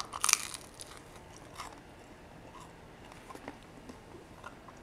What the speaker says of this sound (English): I'm gonna taste the crust.